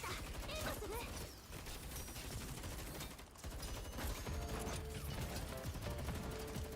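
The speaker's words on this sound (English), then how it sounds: "And they're throwing off cakes again." Firework cakes go off outside in dense, rapid crackling bursts that keep going throughout, fairly faint and distant, with a brief lull partway through.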